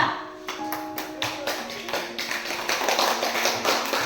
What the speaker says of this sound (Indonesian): Ya, berikan aplaus untuk kelompok 3.